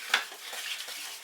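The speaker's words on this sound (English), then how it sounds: "I'm going to put in about a tablespoon of flour, ordinary all-purpose flour," A spoon scrapes and stirs all-purpose flour into hot beef fat left in a roasting pan, a short scratchy metallic scrape followed by a soft frying sizzle, close and quiet, with no speech.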